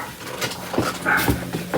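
Pet dog indoors giving short whimpering barks and yips, several bursts at irregular intervals, close and moderately loud, wanting to be let outside.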